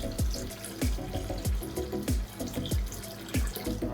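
Water pours into a container for a 15-gallon batch of cold brew, a steady close splashing gush with rhythmic glugging pulses about every third of a second.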